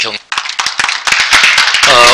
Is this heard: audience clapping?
yes